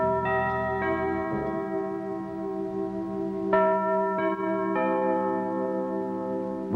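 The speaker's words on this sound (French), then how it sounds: "on entendait ce célèbre carillon" The famous Europe 1 radio station carillon, a sequence of clear bell tones struck one after another, each ringing and overlapping in a slow, stately melody, heard alone.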